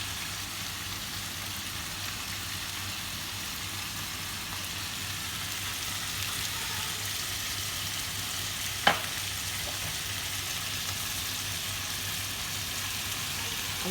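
Chicken fajitas fry in a pan with a steady, loud sizzle as they are stirred, broken by a single sharp clack of utensil on pan near the end.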